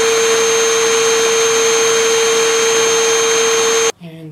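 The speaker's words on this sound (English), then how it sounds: "so I'm just going to use the vacuum cleaner." A household vacuum cleaner runs at a steady, loud whine for about four seconds, then cuts off abruptly, leaving a brief voice.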